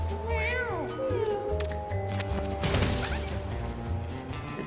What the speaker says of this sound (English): Get back here, kitten.